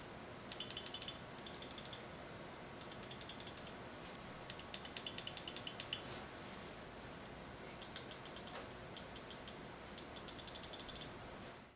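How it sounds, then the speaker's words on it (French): Rapid bursts of sharp button clicks from a WLMouse Beast X 8K gaming mouse, clustered in quick rhythmic groups with short pauses between, close and crisp over a faint background hiss. "Niveau bruit des clics, ça donne ça."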